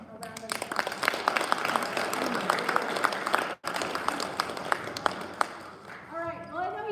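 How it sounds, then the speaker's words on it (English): An audience claps and applauds at a school FFA speech showcase, with steady dense applause that dips for a moment and then resumes as voices rise toward the end. "Please give Ben a round of applause"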